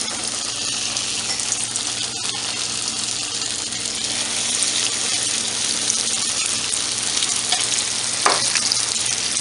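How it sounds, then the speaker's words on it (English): Breaded chicken for Maryland-style fried chicken frying skin side down in oil: a loud, continuous hiss and crackle of sizzling fat, steady throughout with a couple of brief louder pops. "when you start frying, you're going to start with the skin side down."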